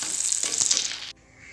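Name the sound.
fish pieces frying in hot oil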